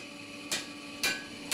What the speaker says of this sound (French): on vous l'a montré tout de suite sur l'enclume, trois marteaux pour frapper sur cette enclume